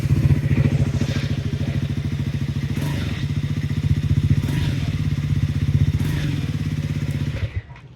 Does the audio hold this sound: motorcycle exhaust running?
yes